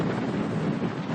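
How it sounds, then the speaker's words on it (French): Strong wind blowing at Meteor Crater along Route 66, a loud, continuous roar of gusts buffeting the microphone, steady for a moment with no talk. "Il y a un sacré vent aujourd'hui."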